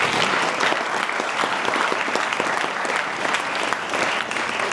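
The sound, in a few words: audience applause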